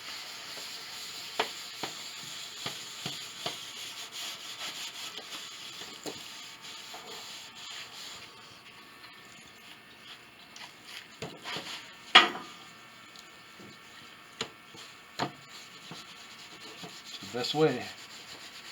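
A cloth rubbing the first coat of alcohol-based finish into the wood of an 1867 Chickering piano, with steady close scrubbing strokes and occasional light knocks and clinks; a voice briefly speaks.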